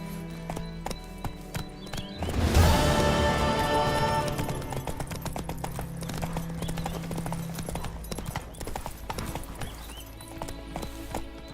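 Roach, a horse in The Witcher 3, gallops with steady, rapid clip-clop hoofbeats over about eleven seconds, swelling loud early on and then continuing at an even pace amid game ambience.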